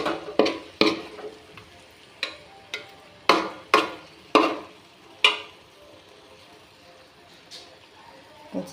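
Chicken parts fried with coriander and curry leaves are stirred in a pan, with sharp, irregular scraping knocks of a spoon over a soft background sizzle.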